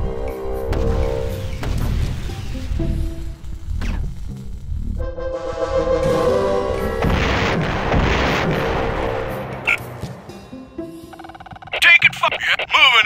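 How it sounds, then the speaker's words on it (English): Mortar strikes in the Army Men RTS game, heavy booming explosions rumbling through a busy battle mix with unit voice callouts and mechanical clatter. "Mortars inbound!"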